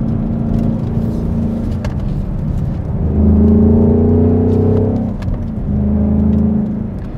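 A 2021 Ford Mustang Mach 1 with the Handling Pack drives along, its engine droning and rising in revs through shifts, a loud steady interior rumble with no talking.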